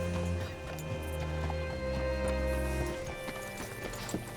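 Hooves clip-clop at a slow walk in the video game Red Dead Redemption 2, hollow knocks over a low ambient hum and faint music, with a brief whinny in the background.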